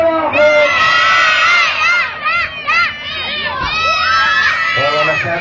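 A large festival crowd, many of them children, shouts and cheers loudly and continuously, with high overlapping cries rising and falling as a mass of voices.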